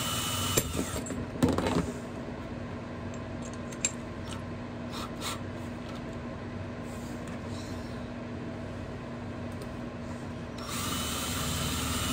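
A cordless drill whirs continuously at an even pitch, preceded by a few sharp clicks and knocks at the start.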